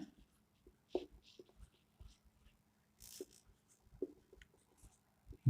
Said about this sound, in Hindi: पहले क्वेश्चन लिख दे रहा हूं